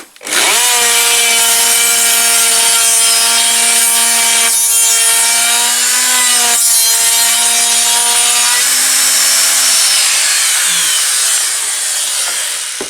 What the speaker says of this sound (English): that's the groove we're cutting out